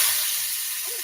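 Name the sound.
steak searing in hot olive oil in pan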